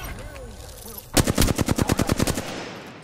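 Close, loud automatic weapon fire in Apex Legends rattles out a rapid burst of about a dozen evenly spaced shots, then stops abruptly.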